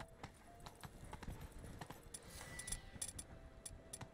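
Horse hooves clip-clop steadily in The Witcher 3 as the animal moves, a moderately loud rhythmic clatter of irregular steps with faint background ambience and a small jingle of tack.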